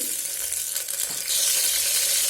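Green chillies sizzling in about four tablespoons of hot oil in a pressure cooker, a steady bright frying hiss that swells louder partway through, with no talk over it.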